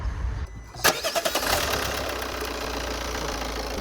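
A Peugeot crossover car engine cranks with a few rapid chugs, catches, and settles into a steady, fairly loud idle.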